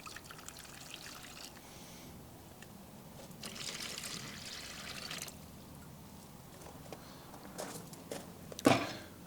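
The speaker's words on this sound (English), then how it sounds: "This is the correct way to mix plaster, and it stops the plaster getting too clumpy. Now, what I'm going to do is just pour this in." Quiet pouring of dry plaster into a bowl of water, soft trickling and dribbling in a workshop setting, with a brief louder splash near the end.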